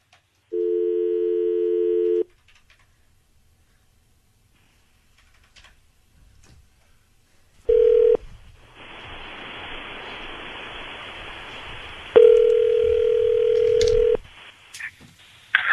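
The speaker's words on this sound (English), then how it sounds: "dialing him up now" A telephone line gives a short steady tone, then silence with faint clicks, then a hissing line with tone bursts and a long steady dial-type tone before cutting off.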